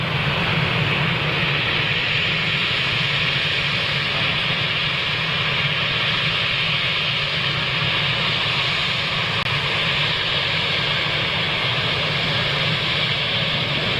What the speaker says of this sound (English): look at this, British Airways Embraer